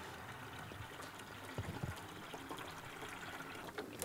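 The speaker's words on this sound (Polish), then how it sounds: "tutaj nalewamy 3 litry wody niechlorowanej" Three litres of unchlorinated water pour steadily into a poultry drinker, giving a soft, continuous trickling wash that stays faint and even throughout, with a few small splashes and no talking.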